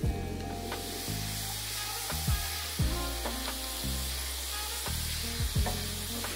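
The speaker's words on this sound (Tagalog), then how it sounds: "Ituloy mo lang yung pag-isa dito hanggang sa mag-umpisa ng mag-brown yung outer part ng bawang." Garlic sautés in oil in a pan, a continuous close sizzle under a repeating low electronic hum and sharp clicks that sit in the background, no speech.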